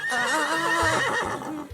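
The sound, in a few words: horse neighing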